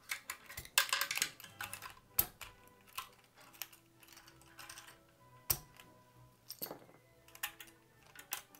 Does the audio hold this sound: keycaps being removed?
yes